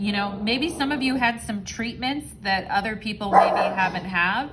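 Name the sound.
dog barking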